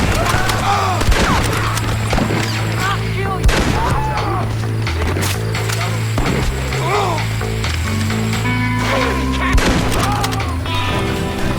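Gunfire in the western video game Red Dead Redemption: a string of sharp shots and heavier booms scattered through about twelve seconds, set against a steady tonal musical score.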